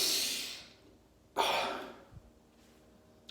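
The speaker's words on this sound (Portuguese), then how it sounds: "Esse é o exercício de respiração." Forceful breaths from a cyclic hyperventilation breathing exercise: a long loud exhale, a pause, then a second sharp breath that fades, with a faint low thump afterward.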